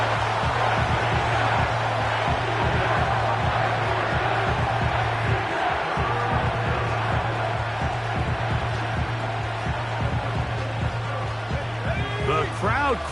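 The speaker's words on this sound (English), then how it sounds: "The crowd cranking it up another notch before third and long" A football stadium crowd roars steadily and loud throughout, a dense broad wall of noise that swells toward the end, with a low droning hum underneath and a few sharp shouts and whistles near the close.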